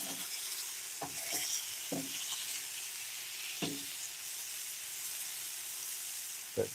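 Food sears in a hot pan just after being flipped, a soft continuous sizzle broken by several sharp clatters and scrapes of a utensil against the pan.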